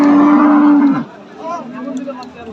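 A dairy cow at the Raniganj cattle market lets out one long, loud, close moo that breaks off after about a second, leaving a busy market murmur with faint voices and distant animal sounds.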